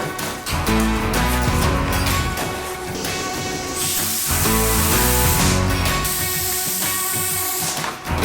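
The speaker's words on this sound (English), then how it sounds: "So I just sprayed a little bit of the spray adhesive underneath there" Aerosol spray adhesive hisses under a car headliner in two sustained bursts, a bright airy spray sound riding over steady background music.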